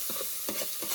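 Tadka tempering sizzles in a pot over a wood-fired chulha, a faint steady hiss broken by three soft scraping stirs in quick succession, with no voices.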